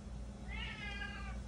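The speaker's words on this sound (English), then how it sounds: "excuse the kitty cats" A cat meows once in a drawn-out, wavering call during an indoor tarot card reading. It is moderately loud over a steady low room hum, with no talking.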